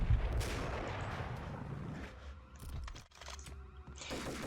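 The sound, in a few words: gunshots in Max Payne video game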